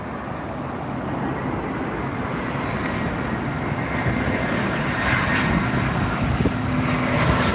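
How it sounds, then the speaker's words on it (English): Aer Lingus airliner on final approach to runway 27R at London Heathrow, a loud sustained jet roar that swells as it nears and stays broad and rushing throughout, with no talk. "here's the Aer Lingus coming in"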